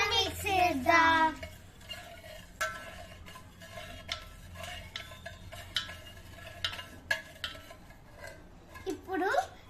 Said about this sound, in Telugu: బెల్లం కరిగేదాకా మిక్స్ చేద్దాం.